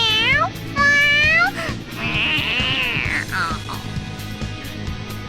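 Cartoon cat meowing repeatedly in the Persona 5 video game, several loud rising and falling mews in quick succession over a game soundtrack.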